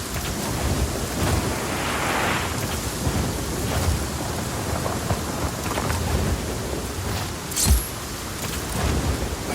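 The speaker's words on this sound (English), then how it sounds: "Storm's rolling in." A video game thunderstorm in Just Cause 4 rumbles with steady rain on surfaces, a deep roll of thunder building in the middle and a sharp crack near the end, all loud and close with no voices.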